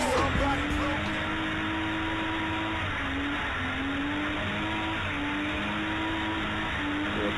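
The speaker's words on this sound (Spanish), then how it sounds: "Es drift, tío, y las ruedas se te acaban" A drifting car's engine roars loud and steady while its tires wear down, the sustained droning tone rising and falling in pitch over several seconds, close and continuous with no clear talking.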